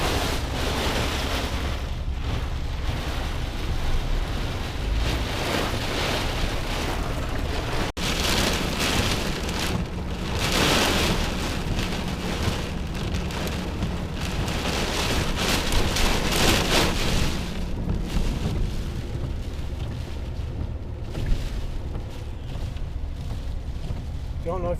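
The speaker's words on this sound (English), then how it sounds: "But here's our wind." Storm wind and heavy rain buffet a Blazer from outside, a continuous roaring wash with gusting surges, heard from inside the vehicle.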